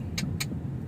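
A car moving in heavy road traffic, a steady engine and road rumble close by, with two brief bright bursts like passing noise or a horn, and no talk.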